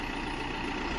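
A tractor engine runs steadily at a house construction site, a continuous broadband idling drone that holds at an even level throughout, close by, with no clear speech.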